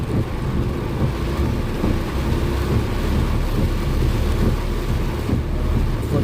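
A thunderstorm drenches a moving car, the downpour a constant loud hiss and drum over a deep rumble, with no talking.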